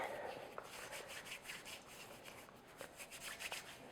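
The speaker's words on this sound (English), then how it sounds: "over your bowl, just take some flour and rub it." Floury hands rub together over a bowl to clear off messy scone dough, giving a soft, continuous dry brushing and scuffing sound, close and quiet.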